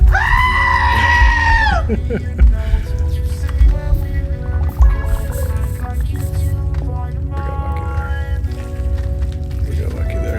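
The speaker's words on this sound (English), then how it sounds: "Thanks, Block, for feeding the goat" A goat in a space-themed video game lets out a long wavering bleat at the start, followed by steady game music and low-key sound effects.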